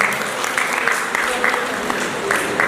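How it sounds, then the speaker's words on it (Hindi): An audience at a stage event claps, a broad crowd patter with a slightly pulsing rhythm, steady and moderately loud, with a voice heard over it. "आपकी तालियों को वो नोट करते जा रहे हैं"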